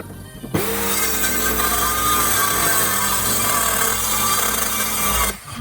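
A saw cuts through a wooden floor board in a Mercedes Vario van under camper conversion, a steady loud rasping that starts abruptly and runs continuously for about five seconds before stopping.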